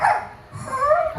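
At a town fiesta in Cagdianao, Dinagat Province, a performer's voice imitates a dog with a short, close, whining yelp and bark lasting about a second.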